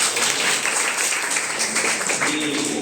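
Steady applause from students and parents at a school parent-teacher meeting at H S S Nariyar, Saharsa, a dense wash of clapping filling the room without a break.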